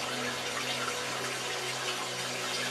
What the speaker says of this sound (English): The drops, the small ones, that land a half second later and make their own tiny notes on the stone.